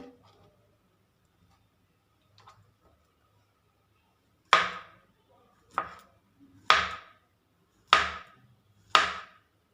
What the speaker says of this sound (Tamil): இந்த மாதிரி ரொம்பவும் மெல்லிசாக இல்லாமல் ரொம்பவும் மொத்தமாக இல்லாமல் கட் பண்ணி வச்சுக்கோங்க